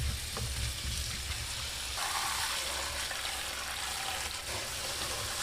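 Prickly pears rinsed under running water indoors give a steady, loud, broadband rush of water with a splashy hiss that continues unbroken throughout.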